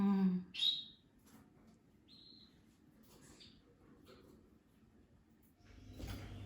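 Sixteen-day-old canary chicks give a few short, high chirps, quiet and spaced apart, over a soft low background rustle.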